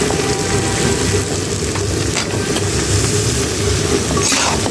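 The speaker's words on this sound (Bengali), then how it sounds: "এখন যে সবজিগুলি কেটে রেখেছিলাম মাছ দেওয়ার জন্য, সেটি দিয়ে দিলাম। কিছুক্ষণ পেঁয়াজ সাথে ভেজে নিব।" Chopped vegetables frying with onion in a pan for a fish curry, a constant dense sizzle and hiss that holds steady throughout with no talking.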